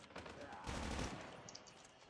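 Rapid gunfire in the mobile shooter Call of Duty Mobile, a loud burst of repeated shots swelling in the middle and then thinning out, with no talk over it.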